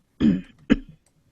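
A woman's cough, two short close bursts a moment apart, loud against a quiet background.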